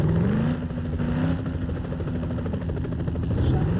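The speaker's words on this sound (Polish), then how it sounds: "O, helikopter, helikopter, helikopter, helikopter." A helicopter's steady rotor thrum drones continuously, a loud mechanical beating with engine whine, sounding like game audio from a police-versus-thieves game.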